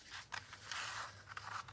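Scissors cut out paper ornaments in quiet, close, crisp snipping and rustling strokes, a few distinct cuts over a short stretch.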